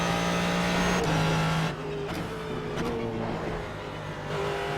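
A race car engine in the iRacing simulator accelerating hard after a moment of oversteer, with rising, shifting engine tones and brief pauses between gear changes, loud and continuous, no talk.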